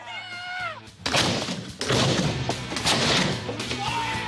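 A sharp, loud blast from a leather cannon firing goes off close by, followed by a second boom and rumbling crash, with a brief high voice just before.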